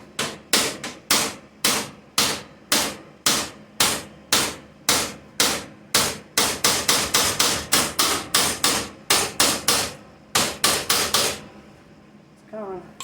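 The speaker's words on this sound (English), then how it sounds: "It's the old ball peen now." A ball peen hammer strikes metal on a Fox body Mustang GT during plug-welding work: loud, sharp, close blows in a steady rhythm that quickens into faster runs, over a dozen strikes before stopping.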